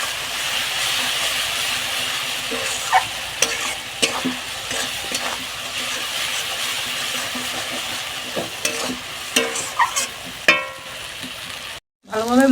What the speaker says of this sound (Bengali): ভালোভাবে একটু মশলাটাকে আমি কষিয়ে দিচ্ছি